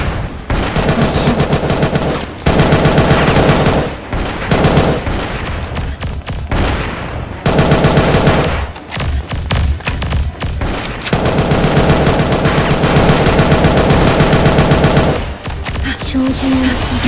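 Weapons blast in the mobile shooter game Angel Squad, loud rapid automatic gunfire in long dense bursts broken by brief pauses, with game sound layered over it.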